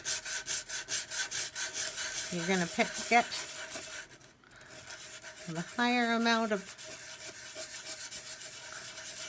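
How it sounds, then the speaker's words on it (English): Rhythmic back-and-forth 220 grit sandpaper strokes on laser-engraved wood, pausing briefly while a person speaks, then the scrubbing continues close by. "go in with your 220 grit sandpaper"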